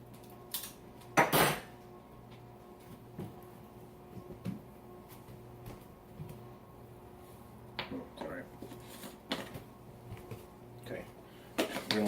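Swordfish steaks being flipped with tongs in a pan: a few sharp metallic clanks and scrapes of tongs against the pan, scattered among quiet pauses, with no talking.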